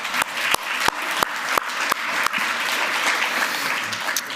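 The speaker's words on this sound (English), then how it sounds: "We'll give you a round of applause." An audience applauds a colleague at a colorectal medical session, loud dense clapping with a few sharp individual claps standing out near the start, continuing steadily throughout.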